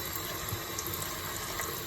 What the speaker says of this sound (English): time to wash the chicken